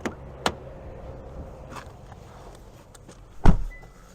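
Getting into a 2023 Hyundai Sonata Hybrid: a few sharp clicks and shuffles of entry, ending in a loud door-closing thump near the close, with no talk.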